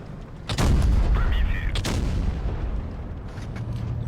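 The main gun of an SU-122-54 tank destroyer in World of Tanks Blitz fires two loud, close booms less than two seconds apart. A rumbling engine and battle noise carry on underneath.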